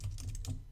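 Quick keystrokes tap on a computer keyboard, about half a dozen soft, close clicks in a brisk run lasting under a second.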